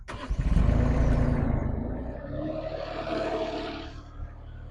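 A Derette mini skid steer loader's engine cranks and revs up loudly, holds a rough roar, then settles into a lower idle with a brief second rise near the end.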